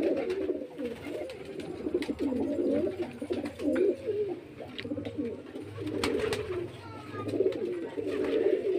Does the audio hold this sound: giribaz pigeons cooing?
yes